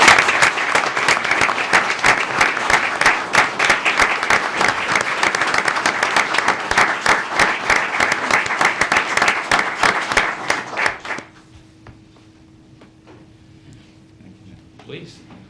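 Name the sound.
applause at a council meeting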